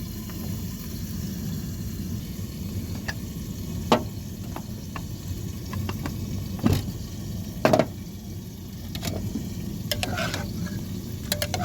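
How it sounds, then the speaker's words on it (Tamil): Tomatoes sautéing in a pan for dal palak, a steady low sizzle throughout, punctuated by a few sharp ladle taps and scrapes against the pan. "தக்காளி வதங்கட்டும்."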